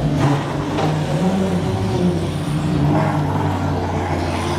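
GT3 race cars roaring at the Mandalika circuit during a GT World race weekend, a loud continuous engine drone with shifting pitch as cars pass close by, no talking over it.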